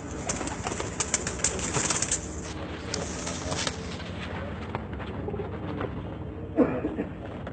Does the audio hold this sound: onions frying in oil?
no